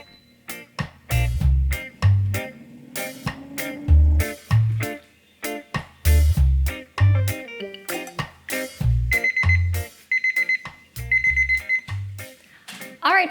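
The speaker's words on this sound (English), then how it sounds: "The 10-minute timer just went off." A kitchen timer rings after a 10-minute air fryer cook, sounding as repeated loud bursts of beeping chimes in a steady rhythm, close and prominent, with sustained high tones near the end.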